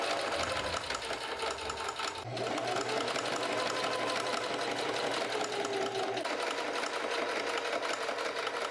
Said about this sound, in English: I'm going to start off by sewing all of the pieces to the corresponding